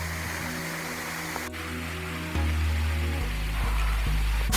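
A waterfall at Krok Ma Tai in Thailand, reached by a sandy trail, rushes as a steady broadband roar of falling water that grows louder partway through, with no talk over it.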